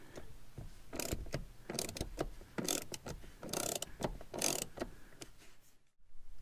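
T30 bolts on car seat rails are undone, giving a series of close, sharp ratcheting clicks and metallic ticks in an irregular rhythm. A brief silence falls near the end.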